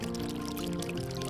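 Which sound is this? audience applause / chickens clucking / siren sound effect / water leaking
water leaking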